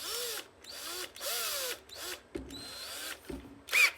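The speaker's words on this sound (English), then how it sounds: "Then get a drill, put it in there" A power drill whirs in several short bursts while fitting a record player idler wheel part, its pitch rising and falling between brief pauses, with a couple of knocks and a final high whine.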